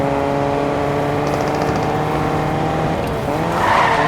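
A race-style car in Fortnite driving with a steady engine drone, then its tires squealing in a skid near the end, loud and close with no talk.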